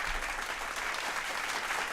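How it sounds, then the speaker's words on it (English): A burst of crowd applause, dense clapping at a steady level for the whole couple of seconds. "Do the applause."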